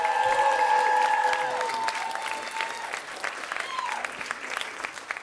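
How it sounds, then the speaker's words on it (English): A comedy-show crowd gives a big round of applause with some cheering and whoops, loud and dense at first, then thinning into scattered clapping and voices. "giant round of applause for Alice and Mitaka."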